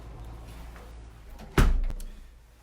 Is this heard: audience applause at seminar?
no